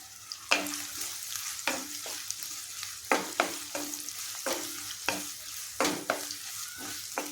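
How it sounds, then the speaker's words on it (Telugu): Onions fry in hot oil as the base of a crab curry, with a steady sizzle under repeated, evenly spaced stirring strokes that scrape and clack against the pan, close by and without talking. "ఇవి బాగా వేపించుకుందాం. ఉల్లిపాయలు చూడండి"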